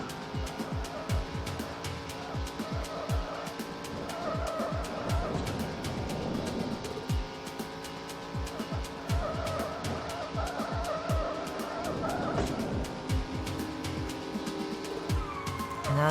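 Race cars roar and tires squeal in the PS1 racing game 5 Star Racing, with a continuous engine drone and several skidding screeches rising over it, loud and steady throughout.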